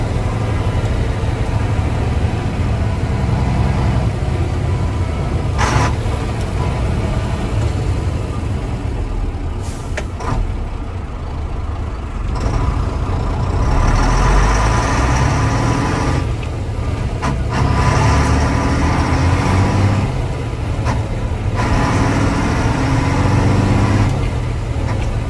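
An Atkinson Borderer vintage lorry with a Rolls Royce engine drives along, a steady low heavy-engine drone with rising and falling revs and occasional air hiss, heard from inside the cab.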